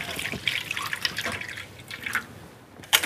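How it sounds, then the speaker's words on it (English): Sweet coffee pours and drips into an ice-cold tray in a kitchen, splashing liquid sounds in uneven bursts, close and fairly clear, with a sharper clink near the end. "Pour the sweet coffee into the ice-cold tray."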